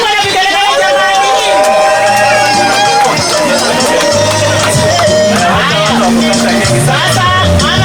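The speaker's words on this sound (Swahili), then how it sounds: "Sema na vigelegele jamani" A crowd at a senior assistant chief's retirement ceremony ululates during the cake cutting. Loud, continuous wavering trills from many voices overlap with close crowd babble throughout.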